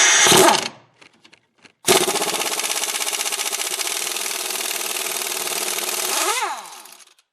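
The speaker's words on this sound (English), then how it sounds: "just with the impact gun without heating anything" Impact gun loosening front strut bolts on a 2003 Buick Rendezvous: a brief burst, a pause, then a long loud continuous rattling hammering run that winds down at the end, close up with no talk.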